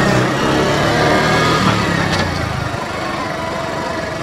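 A small motorcycle engine buzzes steadily as it rides in Kenya, close at first, then easing slightly quieter.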